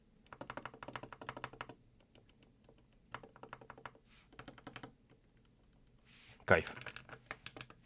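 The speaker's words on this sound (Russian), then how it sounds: "Сейчас я вам это продемонстрирую тайпинг. Звучит уже хорошо." Someone types on a LUMINKEY Magger 68 HE Pro magnetic keyboard fitted with lubed Gateron switches, giving soft, muted key clicks in three short close bursts, then a louder thump. A brief spoken word follows.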